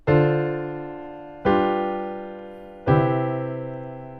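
Three sustained keyboard chords forming a jazz 2-5-1 progression, each struck once and left to ring, evenly spaced about a second and a half apart, with no talking.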